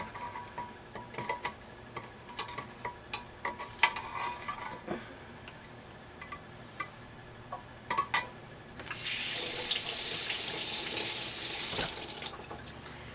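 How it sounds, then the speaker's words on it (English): Preserved eggs rinsed under a running kitchen tap to wash off the preserving solution: scattered drips, clinks and ticks at first, then a steady hiss of flowing water in the sink, near and moderately loud. "Now you do want to go ahead and rinse the solution off the eggs."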